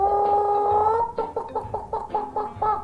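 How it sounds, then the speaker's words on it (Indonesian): A rooster crows in an animated children's moral tale: one long sustained call, then a run of short choppy bursts, loud and close with nothing else heard. "kalau ayam itu bisa berkokok seperti ini"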